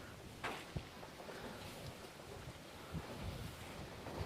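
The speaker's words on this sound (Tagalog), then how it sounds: "Ang lakas ng hangin." Strong wind blows around an open outdoor kitchen, roaring and gusting in a constant broadband rush with buffeting bumps on the microphone.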